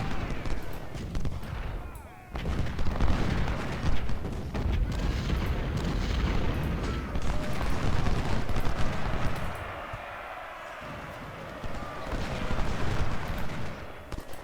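Artillery and massed gunfire roar in the Civil War battle game Ultimate General: Civil War, at the First Battle of Bull Run, as a dense continuous rumble of booms and crackling volleys that briefly dips before swelling again.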